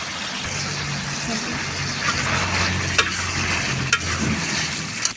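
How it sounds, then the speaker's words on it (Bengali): Country chicken bhuna cooking down in a pan with chopped green chillies gives a steady low sizzle, punctuated by a few sharp scrapes of stirring toward the end, moderately quiet and close. "এবার আমি এই পানিটা ভালোভাবে টানিয়ে নিব মানে কষিয়ে নিব"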